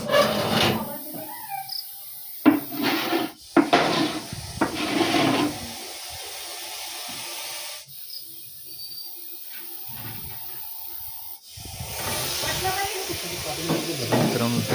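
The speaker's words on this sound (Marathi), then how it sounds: "एकदम कुकरच्या सिटी गत असा आवाज येत आहे याचा." A Russell's viper hissing like a pressure cooker whistle, with loud rasping breathy bursts close by, separated by brief pauses, with people talking over parts of it.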